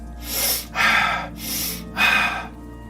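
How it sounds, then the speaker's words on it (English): Rapid, deep mouth or nose breathing demonstrated by a man, with two forceful inhale-exhale cycles in a steady rhythm, loud and close to the microphone. "The repetitive breathing more quickly and deeply, this kind of thing"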